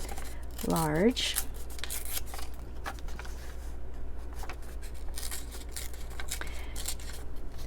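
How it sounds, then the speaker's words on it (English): Paper torn by hand at both ends of a piece for a Hobonichi Techo A6 journal, a short crisp rip near the start followed by soft rustling and handling while a person talks. "I'm ripping both ends just to keep it consistent"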